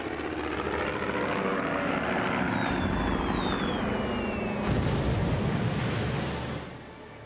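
Warplanes and high-altitude bomber aircraft over a Pacific harbour during a wartime attack make a heavy, continuous roar with faint whistling tones overhead, loud and steady before easing off at the end.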